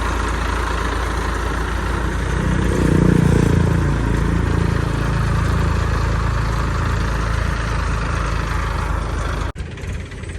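A tractor engine idles steadily nearby, giving a continuous low, rumbling drone for about nine seconds. A brief thump comes near the end, and the engine keeps running after it.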